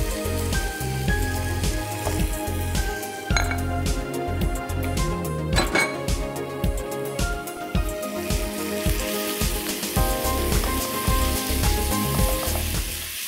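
Beef or mutton mince sautés with onion, capsicum and garlic in a pan, making a steady, close sizzle and crackle with intermittent scraping and clinking from stirring, and no talking.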